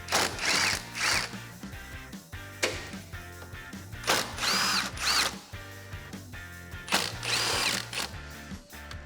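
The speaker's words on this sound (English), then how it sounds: "grab our 10mm with an extension and get these removed" Ratcheting socket wrench on an extension backing out 10mm grille bolts on a 2014-2015 Chevrolet Silverado 1500, repeated bursts of quick clicking and whirring with short pauses between, close and fairly quiet.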